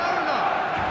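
Stadium crowd on match day in the eFootball video game, a dense, steady roar of many voices filling the whole second, loud and continuous with no single voice standing out.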